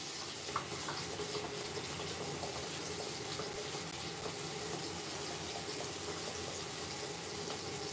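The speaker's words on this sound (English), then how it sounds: "I'm just wetting those with hot water." Hot water runs steadily from a tap over makeup brushes at a sink, a continuous even splashing hiss lasting throughout at moderate level with no talking.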